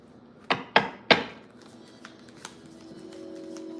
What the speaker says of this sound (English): I'm just shuffling up the cards before I start.